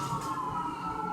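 Wailing siren of an emergency vehicle, likely a fire truck, heard near a checking post, holding a steady tone throughout without any voices.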